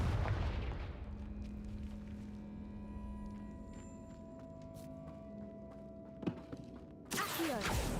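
Confringo fire spell from Hogwarts Legacy blasting in a tomb: a loud booming explosion at the start that rumbles and fades under a low drone, followed by a sharp crack and another burst near the end.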